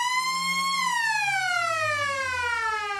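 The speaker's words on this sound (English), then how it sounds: "The siren sounds to get play underway" A loud, sustained electronic siren wails at the start of an Australian rules football match, holding a steady tone before sliding gradually downward in pitch.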